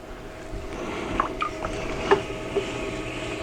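A potter's wheel spins steadily as a clay plate is thrown, giving a continuous low hum and whoosh with a few soft wet touches of hands on clay.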